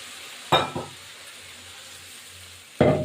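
Ripe chillies dropped into a pan of frying ginger, garlic and cumin paste for a spicy mutton dish, giving a couple of close stirring scrapes and sizzling bursts at the start and again near the end over a low steady background.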